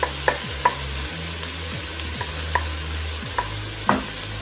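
Chopped onion frying in oil in a pan over medium heat, a steady close sizzle with a few light stirring scrapes and taps, no voices.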